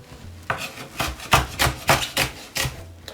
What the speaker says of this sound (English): I'm gonna cut it up just very small.